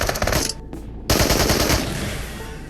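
Automatic gunfire in the video game Into the Radius, two rapid bursts of loud close shots separated by a brief gap, the second burst trailing into echoing decay.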